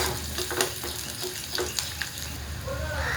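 Curry leaves and onion hit hot oil in a pan for a bottle gourd curry. A steady close sizzle runs throughout, broken by a few sharp spatula clicks as the pan is stirred.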